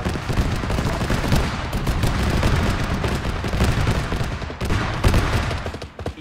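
Sustained aircraft strafing fire in Arma 3 after a helicopter goes down, a continuous loud roar of rapid gunfire and impacts that swells and pulses for several seconds with no pauses.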